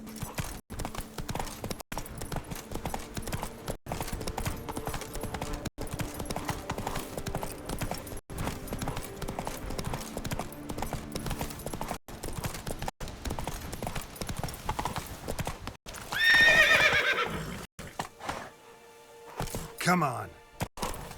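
The horse Roach from The Witcher 3 walks with rhythmic, close clip-clop hoofbeats that keep going throughout, then gives a short loud neigh near the end before the hooves fade out.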